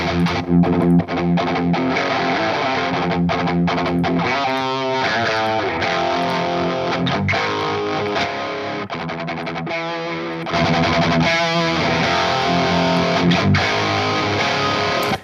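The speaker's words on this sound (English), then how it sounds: "So there's the Soldano distortion." Heavily distorted electric guitar through a Soldano amp simulator, playing chords and riffs, loud and continuous with a thick, high-gain crunch throughout.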